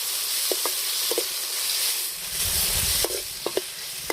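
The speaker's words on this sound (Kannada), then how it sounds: "ಟೊಮೊಟೊನ ಫ್ರೈ ಮಾಡ್ಕೋಬೇಕು." Tomatoes and onions frying in a pan over a wood-fired stove, a steady broadband sizzle with a few sharp scraping clicks from stirring, close and moderately loud with no voices.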